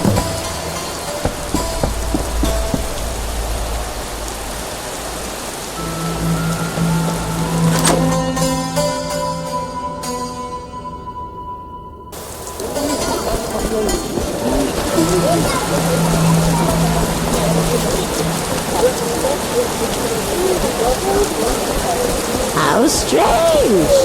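Steady rain from the video game The Witcher (2007) falls throughout in a constant hiss, with a brief lull and musical tones midway before the downpour resumes loud and close, and voices talking over it.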